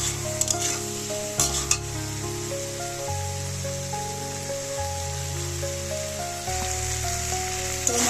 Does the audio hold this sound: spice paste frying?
yes